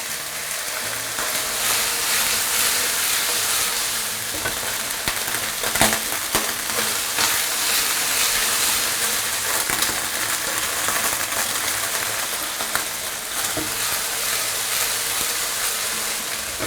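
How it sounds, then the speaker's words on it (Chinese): Chicken leg pieces fry skin-side down in a little oil over medium-low heat, giving a steady, close sizzle with faint crackles and no talking. "开中小火慢慢去煎它"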